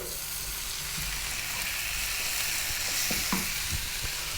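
Chopped tomato sizzles in hot oil with ginger garlic paste for dal, a steady close hiss with a few scrapes of stirring.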